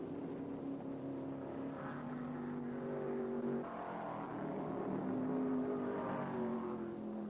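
Stock cars race in the 1974 World 600, including a Ford, as a distant, steady engine drone with overlapping pitches that rise and fall as the cars run side by side through traffic.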